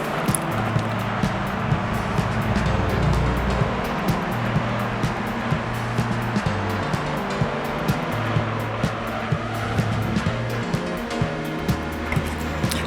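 A Mazda Miata race car in Gran Turismo 3 on the Apricot Hill circuit during an endurance race runs a continuous buzzing engine note with shifting pitch and a loud, steady wash of road and wind noise under it, no talking.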